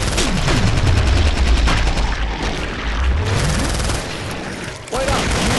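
Automatic gunfire in the video game Killing Floor, dense and loud rapid bursts with booming impacts that run almost nonstop, with brief dips in intensity.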